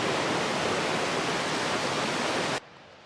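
A mountain stream on the Continental Divide Trail rushes loudly and steadily over a pile of logs, a dense close roar that cuts off abruptly near the end, leaving faint background.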